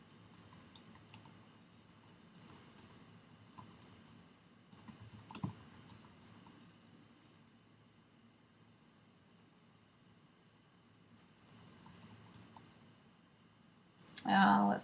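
Keys tapped on a computer keyboard during work in Canva, quiet scattered bursts of clicks with pauses between them and a louder thump at the very end.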